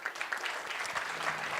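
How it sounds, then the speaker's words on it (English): Brief, fairly soft round of clapping from an audience at a women-in-tech hackathon finals event, a short patter of hands with no talking over it. "So round of applause for Kabot as well."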